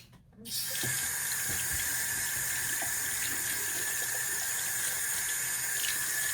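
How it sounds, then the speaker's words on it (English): A bathroom tap runs steadily as water fills the sink to wet a washcloth, a continuous close rushing hiss starting after a brief quiet moment and holding even to the end. "I'm just going to wet a washcloth."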